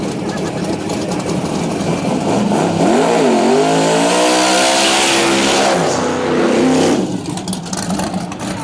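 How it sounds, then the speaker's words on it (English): A twin-turbo small-block Chevy 1957 Chevy drag car races a nitrous-powered Camaro at a drag strip, loud engines roaring and climbing in pitch through a long pass, with faint crowd noise around. "That 57 Chevy twin turbo, small block Chevy power."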